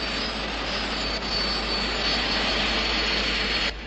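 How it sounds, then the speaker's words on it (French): A steady, loud helicopter engine roar drones on without a break, a dense mechanical rumble that cuts off abruptly near the end. "J'entends le bruit du moteur d'un hélicoptère, Parker."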